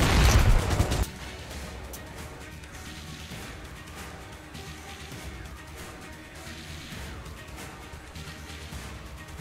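A loud burst of explosion and gunfire from the video game Metro Exodus, a heavy blast at the start followed by a dense, sustained rumble of shots and crashes that continues at steady loudness throughout.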